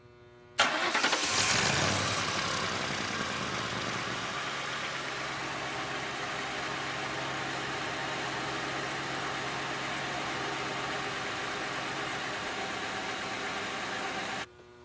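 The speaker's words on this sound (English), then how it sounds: "Let's start the engine and test the gases." A car engine cranks and catches with a loud burst, then settles into a steady, even idle that runs on alone for over ten seconds before cutting off, in a workshop before an exhaust gas test for a catalytic converter.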